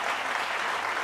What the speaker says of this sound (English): Did you hear the clapping? That's all her indoctrinated followers who came to the show.